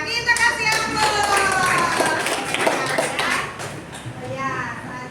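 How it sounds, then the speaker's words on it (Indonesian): A classroom of students clapping together in a dense, lively burst that fades toward the end, with children's voices chattering over it. "Iya, kita kasih aplaus."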